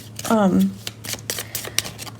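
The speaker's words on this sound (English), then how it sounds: "oh wow, I just shuffled this in the weirdest way ever." A deck of tarot cards being shuffled in an unusual way, heard as a few quick papery riffles and taps up close, with a person talking at the start.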